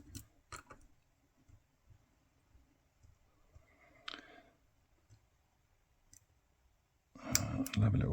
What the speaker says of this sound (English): because they're serrated, you just get lots of little clicks